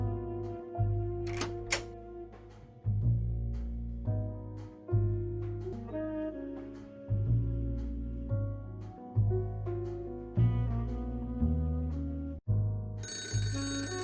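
A phone rings in a detective video game as an electronic, bell-like tone repeating in steady bursts with short gaps between them, clear and alone with no talk.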